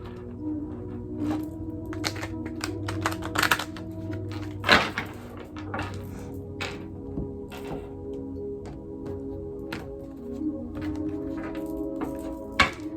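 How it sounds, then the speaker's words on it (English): Soft, irregular papery riffling and taps of tarot cards being shuffled, fairly close, with a faint low hum underneath and no talking. "And one more shuffle."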